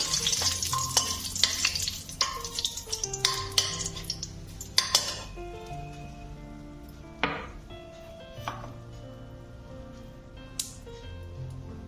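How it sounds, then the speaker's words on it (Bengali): Dry red chillies and bay leaves crackle and sizzle in hot mustard oil, with sharp clinks of a spoon against the pan and utensils rattling, loud at first and then easing into a steadier fry. "প্রথমে আমি শুকনো লঙ্কা আর তেজপাতাটা দিয়ে দিলাম"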